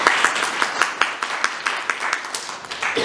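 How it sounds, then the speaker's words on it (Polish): Audience applause at an author meeting held in the Sobański Palace, a steady patter of many hands clapping indoors, moderately loud and continuous throughout with no talk. "Wielkie brawa na Marioli."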